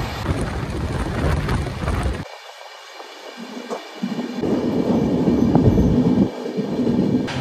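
Train on the Howrah to Jagdalpur run rumbles loudly from close inside, the low roar cutting out for a moment as if passing something, then returning steady and strong.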